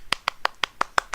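Seven sharp, evenly spaced hand claps ring out close and clear in about a second, a single person's slow applause with nothing else heard.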